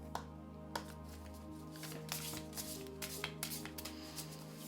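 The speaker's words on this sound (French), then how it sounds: "Allez, on va mélanger et tirer une petite carte rien que pour vous." A deck of oracle cards shuffled by hand, soft riffling and papery flicks with light taps repeating, close but quiet over a low steady hum.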